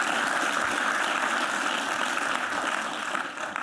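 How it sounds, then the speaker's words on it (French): Audience applause after a conversation with Alanis Obomsawin, a steady wash of clapping from a crowd, fairly distant and even throughout, fading slightly at the end. "Bon, on peut applaudir."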